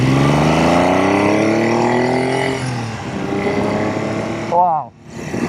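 A Triumph Trident T160 motorcycle engine revs loudly close by, its pitch climbing and settling with a sharp rise and drop near the end.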